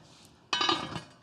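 Lid set onto a steamer pot over rapidly boiling water, giving one short metallic clink followed by a brief rattle, with a soft steady boil hiss behind it.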